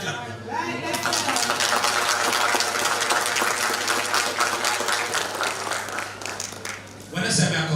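Applause from a crowd at a high school graduation ceremony fills the air in a steady wash of clapping, then fades briefly before a short burst of sound at the end.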